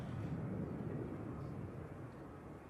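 An airliner arriving from Dublin touches down on runway 05 right at Manchester Airport, a steady broad low roar that holds loud and close throughout, easing only slightly toward the end.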